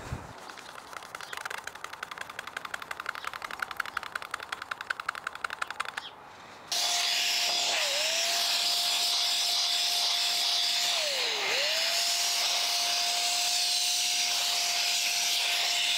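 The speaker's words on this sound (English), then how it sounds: "we've managed to blow off a lot of the dust off the side there" Compressed air blasts dust off a damaged PC's components, a steady loud hiss after some clicking and rattling, with brief dips in pitch as the nozzle moves.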